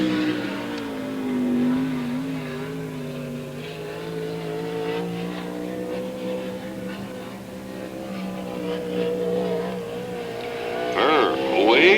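Brad Furr's number 2 race car is out on a qualifying lap. A sustained engine drone rises and falls in pitch as it laps the track, heard at a distance beneath an announcer's continuous commentary.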